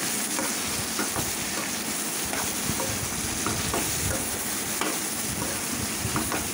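Brinjal pieces fry in a pan with turmeric and salt for Andhra-style vankaya fry, a loud steady sizzle with repeated scraping and stirring strokes of a spatula throughout.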